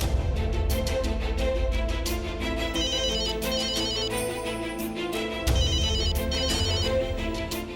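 An electronic phone ringtone rings on and on, a melodic tune with repeated high tinkling phrases over a steady musical bed, clear and uninterrupted by voices.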